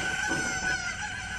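A chicken clucks in the video game Zelda Breath of the Wild, a loud, continuous fowl call with a tonal edge and no voices.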